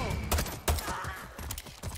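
Gunfire in the video game Far Cry 6 comes as a few sharp, punchy shots at irregular intervals, moderately loud against a busy game background.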